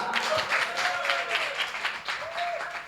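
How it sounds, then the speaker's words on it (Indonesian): A talk show audience claps warmly, with steady mid-level applause and a few voices calling out or cheering over the clapping. "Tepuk tangan."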